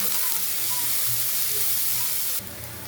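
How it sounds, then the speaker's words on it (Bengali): Chopped onions fry in hot oil in a pan, browning with a steady, dense sizzle and crackle that stays close and continuous, dipping slightly near the end. "দেখুন পেঁয়াজটা হালকা ব্রাউন করে ভেজে নিয়েছি।"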